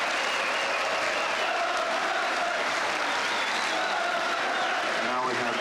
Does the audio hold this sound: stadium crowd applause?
yes